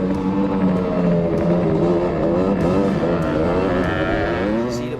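Honda ATC 250R three-wheelers ripping across a field: a loud, continuous two-stroke engine roar with wavering pitch as the throttle rises and falls, with talk faintly underneath.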